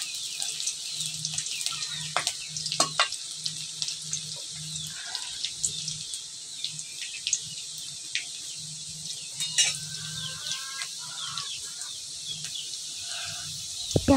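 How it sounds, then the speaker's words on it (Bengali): Onions sizzle in a pan while being browned for a fish and vegetable-stalk stir-fry, a steady hiss broken by soft clinks and scraping stirs. "পেঁয়াজটা বেশি ভাজা যাবে না,"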